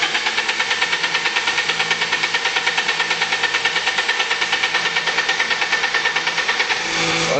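A BMW 318 E30 with the M40 engine runs rough on a start attempt, a fast, even knocking pulse held steadily for several seconds before it fades at the end.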